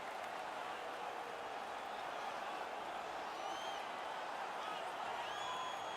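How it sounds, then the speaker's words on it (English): A home crowd at a hockey game cheers and makes noise after a fight, a continuous, fairly faint wash of crowd sound with no clear breaks. "The home crowd is ecstatic. They're making all kinds of noise."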